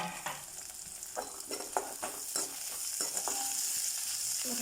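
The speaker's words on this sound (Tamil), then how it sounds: "இப்போ வெங்காயம் இது வதங்கினது தக்காளியை சேர்த்துக்கோங்க." Tomatoes go into sautéed onions in a pan for a vegetable kurma, frying with a steady close sizzle while a spoon scrapes and stirs in irregular strokes; no one speaks.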